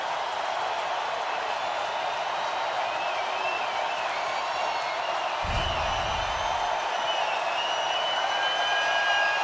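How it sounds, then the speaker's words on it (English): A packed stadium crowd at an NFL game, the Saints hosting the Panthers in 2013, roars in a constant, loud wash of noise as the home defense takes the field on third down, with a dull thump midway. "Crowd always rising on 3rd down when their defense is on the field."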